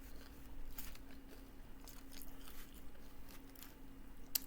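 Someone eats taco salad with hot sauce, cheddar cheese and nacho cheese Doritos, with soft crunchy bites and chewing repeating close to the mic over a low steady hum, faint and without talk.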